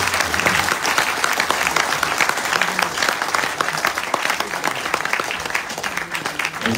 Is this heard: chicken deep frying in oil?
no